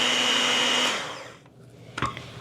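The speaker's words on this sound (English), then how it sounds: "So I'm just using my beaters to give that an initial stir" Electric hand mixer beaters stirring biscotti dough, a loud steady whine that runs for about a second before spinning down, followed by a few knocks and clatters in the bowl.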